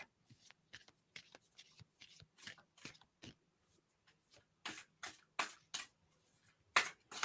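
Playing cards being shuffled by hand, a run of crisp riffling bursts and soft taps, close and fairly quiet, with louder riffles toward the end and no talking.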